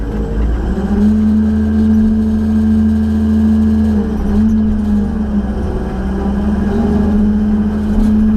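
The engine of a Beast 4680 runs at raised RPM, loud and close, holding a steady droning tone that dips slightly and recovers without stopping.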